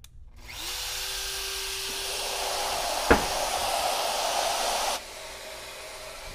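Shaper Origin handheld CNC router plunge cutting wood while building tambour doors, a steady loud high whine for several seconds with a sharp click midway before the motor drops away, no talking.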